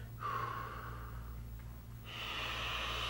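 A long, steady exhale during a breathing exercise in a counseling session, a soft airy rush lasting a couple of seconds, followed by a second breath sound.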